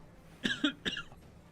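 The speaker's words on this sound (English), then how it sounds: "I had this cough." A single person coughs several times in a short burst, close and fairly dry, with each cough coming in quick succession and no talking.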